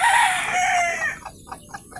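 Native chickens on a farm: a rooster crows loudly and close by, then a few short clucks and peeps follow.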